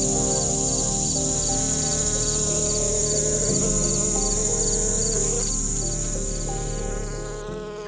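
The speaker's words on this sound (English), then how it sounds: "I listen carefully to the buzzing bees, to the flight of dragonflies" Insects buzz and drone in a forest: a steady high whine and layered humming, with rhythmic chirping pulses over it. The sound is close and continuous, thinning slightly toward the end, with no voices.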